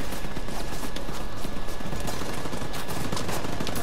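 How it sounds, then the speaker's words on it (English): Sustained, dense gunfire from a firefight in the video game The Division 2, with shots pouring out nonstop without a break and no one speaking. "So they're firing non-stop, like no breaks whatsoever."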